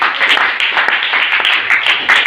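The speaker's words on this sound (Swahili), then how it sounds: "Ni sifa kwa pigia Yesu makofi" A church congregation claps for Jesus in steady, lively applause, a close and continuous patter of many hands throughout.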